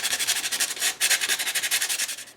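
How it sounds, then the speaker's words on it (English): Coarse 60 grit sandpaper scuffs across the pages of a board book in quick, steady back-and-forth strokes, a close, loud rhythmic rasping with a brief pause partway through and no talking. "bring my 60 grit sandpaper in, and I'm going to scuff up all of the pages so that they will grab the gesso"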